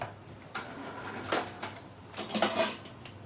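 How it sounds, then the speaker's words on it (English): Metal pot lids clink and clatter a few times, close by, in a quiet kitchen as someone rummages for the right one. "See if I can find the lid."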